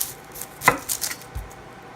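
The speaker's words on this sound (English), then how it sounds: "I'm going to show you how I cut my onions" A knife chops through an onion on a cutting board in a home kitchen, giving a few crisp single cuts with short pauses between them and a dull thud from the board.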